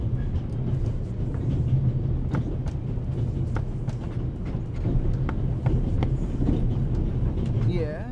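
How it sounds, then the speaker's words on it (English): Steady rumble of the Orient Express train in the video game The Raven, a continuous low rolling noise with faint clicks over it, and a voice speaking over the top. "The noise on this train is driving me crazy."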